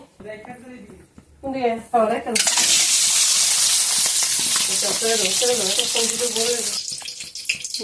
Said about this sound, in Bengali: একটু কাশ্মীরি গুঁড়ো লঙ্কা আর লবণ দিয়ে ডিমটাকে ভেজে নিচ্ছি